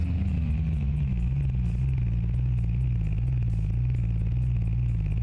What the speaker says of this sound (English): Does the engine have a W12 engine sim sound? Yes, it does.